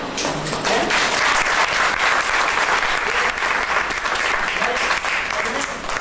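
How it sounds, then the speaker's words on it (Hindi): Steady applause from a seated audience at a hotel club event, continuous clapping filling the room for several seconds, loud and dense with no pause. "इनके लिए तो ताली बजाएं"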